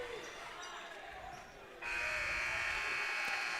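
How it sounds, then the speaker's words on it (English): Final buzzer at a high school boys basketball game between Nokomis and Bangor, a loud sustained electronic tone that cuts in partway through and holds over gym crowd noise. "And so at the buzzer,"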